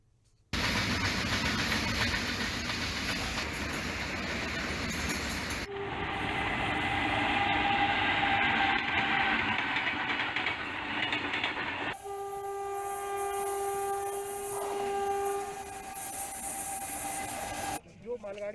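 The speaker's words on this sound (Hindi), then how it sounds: "इस ट्रैक पर सिर्फ मालगाड़ियों का संचालन किया जाएगा।" A freight train runs along the Eastern Dedicated Freight Corridor, its wagons rumbling and clattering in a loud, steady stream up close, with a long horn blast sounding later; a voice is heard at points over the noise.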